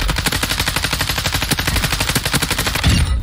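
Automatic gunfire in Warzone 2 on the Al Mazrah map, a loud, rapid, continuous stream of shots that fills the whole stretch.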